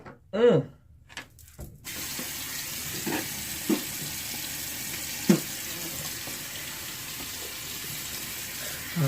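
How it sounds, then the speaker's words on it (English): Running tap water pours steadily into a sink as a toothbrush is rinsed, with a brief voice and a few clicks at the start before the flow takes over. "just rinsing my toothbrush out real good"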